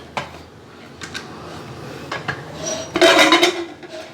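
Metal clinks and scrapes of a pressure cooker lid being handled after the steam is released, ending in a louder clatter as the lid comes off.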